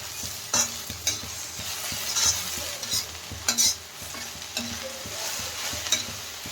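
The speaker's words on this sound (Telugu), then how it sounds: "బెండకాయ చితకకుండా కలుపుకోవాలా మెల్లగా" Okra (bhindi) fry being gently stirred in a pan, with soft steady sizzling and a few sharp scrapes and clinks of the spoon against the pan, close by with no talk.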